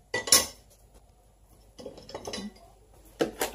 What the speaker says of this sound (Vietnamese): 3 muỗng canh bột năng mình sóc lên